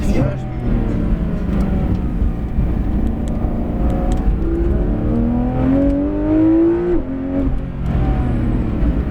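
Porsche 911 GT3 RS PDK 991.2 engine circling the Maison Blanche track at Le Mans, with a steady, loud engine drone and rising rev sweeps while a person talks over it throughout.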